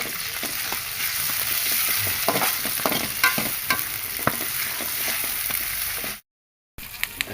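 Garlic and ginger paste hitting the pan with river fish and tomato: a bright, continuous sizzle with scattered crackles and stirring scrapes, cutting to brief silence near the end before the frying returns.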